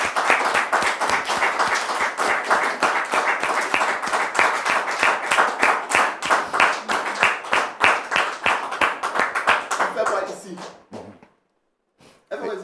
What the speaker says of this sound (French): Public, merci de recevoir notre frère Maxime sous vos applaudissements